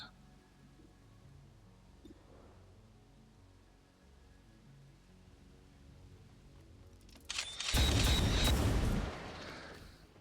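Gunfire in the turn-based tactics game XCOM 2 Long War of the Chosen during an Advent HQ assault, a loud burst of shots lasting about two seconds after a quiet stretch of ambient game sound.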